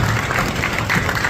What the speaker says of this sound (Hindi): इनका भी तालियों से स्वागत किया जाए